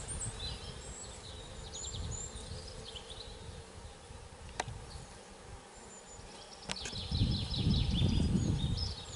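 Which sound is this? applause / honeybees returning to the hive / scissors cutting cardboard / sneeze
honeybees returning to the hive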